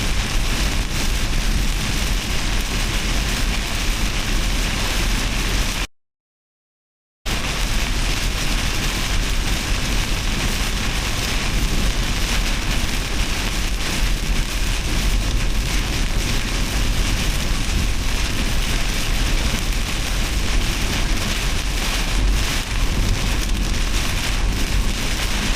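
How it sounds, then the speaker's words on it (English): Heavy rain pounds steadily during a tornado outbreak in Missouri, a dense, loud, unbroken roar of drops on surfaces, broken only by a brief moment of silence. "Dumping rain right here."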